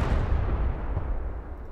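Artillery fire in the video game Broken Arrow during a 5v5 match: a dense, continuous rumble of heavy booms that rolls on loud and unbroken with no gaps.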